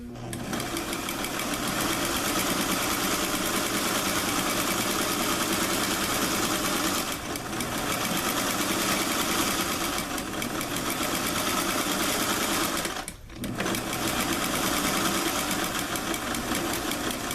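A sewing machine stitches a plaid suit jacket in one continuous mechanical whir with a steady rapid rhythm, loud and close, pausing only briefly twice.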